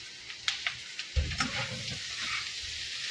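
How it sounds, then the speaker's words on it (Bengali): Capsicum drops into a pan of softened onions frying for chilli chicken, and the oil crackles up louder as it lands. A steady sizzle follows with light stirring scrapes and small pops, close and alone. "পেঁয়াজ অনেকটা নরম হয়ে গেছে, আর একটু নরম করব, তার আগে ক্যাপসিকামগুলো দিয়ে দিলাম"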